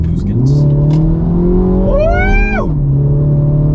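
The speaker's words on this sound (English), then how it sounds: "We're gonna go full throttle now in mode 2." A 2023 Mini Cooper S at full throttle in drive mode 2, its engine note climbing steadily in pitch under hard acceleration, then dropping sharply at a gear change, heard loud from inside the cabin.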